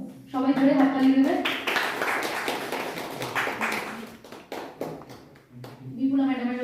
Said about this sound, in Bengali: মঞ্চে চলে আসবে চায়না মুর্মু, সবাই ধরে হাততালি দেবে।